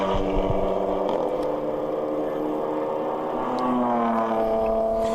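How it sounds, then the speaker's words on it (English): Racing car engines, including a BMW, scream on the high banks at Daytona during a ChampCar endurance race, a loud sustained whine that shifts pitch as a car accelerates past. "You can just hear those engines screaming, that BMW, as it comes up out of that bus stop"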